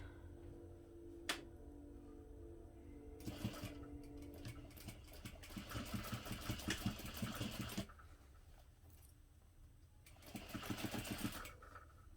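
A sewing machine stitches the final top seam of a clutch bag at a 3/8 inch seam allowance, running in two loud bursts with a quieter gap between them and no talk.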